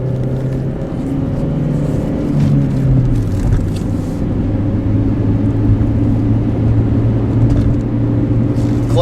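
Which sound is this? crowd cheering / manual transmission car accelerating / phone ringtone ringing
manual transmission car accelerating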